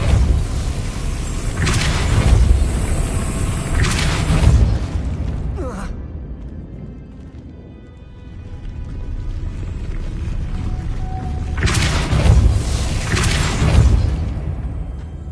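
Depulso force spell in Hogwarts Legacy, heard as several heavy whooshing booms. Two come close together early, then a longer lull, then another strong blast near the end, all loud and without speech.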